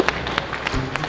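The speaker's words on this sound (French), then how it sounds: "On applaudit les gars." A short burst of scattered hand clapping from a small crowd at an amateur MMA fight event, steady and moderately loud.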